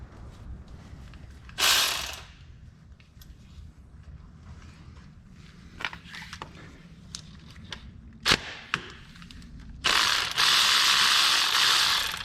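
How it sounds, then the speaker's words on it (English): Ratchet wrench with a deep 13 mm socket on an extension loosening oil filter housing bolts on a Chrysler Town and Country, with bursts of rapid close clicking, scattered metallic taps and clunks, and a long loud ratcheting run at the end. "For that one on top of the sensor, I'll be using a deep 13 with a 3-inch extension"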